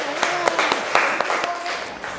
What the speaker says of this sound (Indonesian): Oke, tepuk tangannya mana?